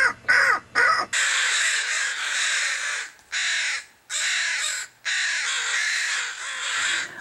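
Crows caw loudly and close at a campsite at Kaufman Cove, Alaska, in repeated harsh bursts separated by short gaps, several birds calling over one another.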